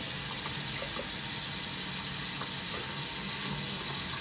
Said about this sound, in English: We're also going to run the sink.